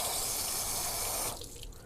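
Water runs and sheets off a vehicle trim piece coated with a lithium graphene hydrophobic coating, a steady close splashing hiss that drops away near the end.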